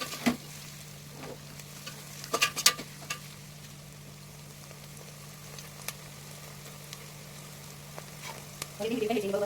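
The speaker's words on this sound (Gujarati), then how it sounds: "આપણે વચ્ચે વચ્ચે હલાવતા રહેવાનું કે નીચે બળી ન જાય।" Vegetables with cabbage fry and are stirred in a pan for Mumbai-style pav bhaji. A faint, low sizzle runs throughout, broken by occasional scraping clinks of the spoon, with a short burst of stirring at the end.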